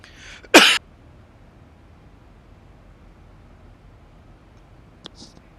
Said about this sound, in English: Man, I just had a sneeze attack. And I can't stop coughing now afterwards